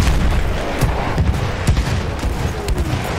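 Model 10 Hunter rifle fire in the World War I shooter Battlefield 1, sharp gunshots cracking at irregular intervals over a dense, noisy battlefield din of distant explosions and gunfire.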